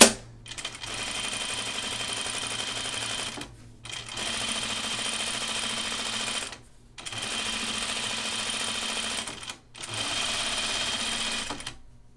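A sewing machine runs in four sustained bursts, stitching the corner of a button-up shirt, each run buzzing loudly and evenly with short pauses between, no voices.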